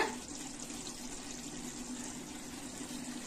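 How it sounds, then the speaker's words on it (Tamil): Water pours steadily into a cooking pot of mushroom and vegetable biryani in a continuous stream, a close, even splashing fill that runs without pause for a few seconds. "இப்ப தண்ணி அளந்து ஊத்திக்கலாங்க"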